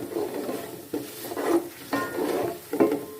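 Spices such as red chili, dried chili and ground coriander being mixed in a bowl for kadhi pakora, four close scraping strokes of a spoon against the dish, each a short swish with small clinks.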